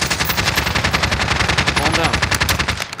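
Light machine gun fire in Call of Duty: Modern Warfare, a loud, continuous stream of rapid automatic shots with no pauses, close and dominant for the whole stretch, with faint game noise beneath.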